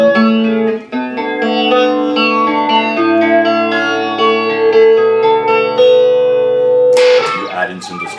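Clean electric guitar played through a Boss BF-2 flanger pedal, sustained notes and chords sweeping with a swirling jet-like shimmer, loud and alone, ending in a brief strummed flourish.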